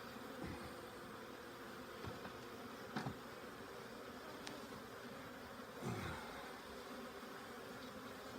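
Honey bees from an April hive inspection hum faintly and steadily around the open hive, a low continuous buzz with a few brief knocks and clicks.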